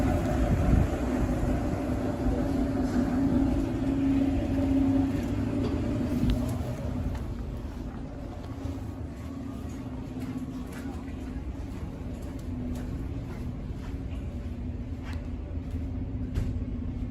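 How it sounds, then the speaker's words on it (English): A Honda Odyssey rolls into Frank's Car Wash in Sumter, South Carolina, under a steady low rumble of engine and wash machinery that persists throughout, with no distinct arrival. "Oh, we got a car coming in."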